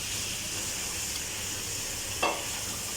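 Chicken meat browns in a pan as it is cooked down, giving a steady soft sizzle and hiss throughout, with one brief louder scrape or stir near the end, and no voices.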